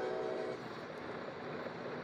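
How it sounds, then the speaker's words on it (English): A train rumbles past at a distance, a faint, steady mechanical roar with a brief tonal horn-like note at the start. "Here comes the train."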